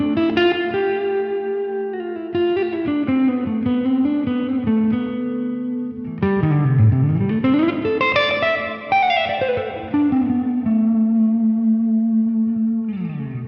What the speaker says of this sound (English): The Eastman is an incredibly well-built instrument that has this gorgeous airy tone that cannot be matched.